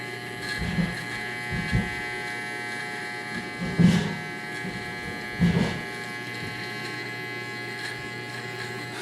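An electric hair clipper buzzes steadily and close by while it lines up a mustache around the lip, its drone holding even with a few louder swells where the blade presses against the face.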